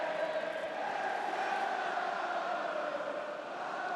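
A football stadium crowd at a League Cup match between Swansea City and Nottingham Forest roars in a steady, dense wash of cheering that holds without break, distant and sustained.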